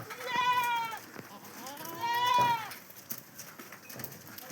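A goat bleating twice, two long wavering calls close by, with quieter farmyard sounds and a few faint thuds between them.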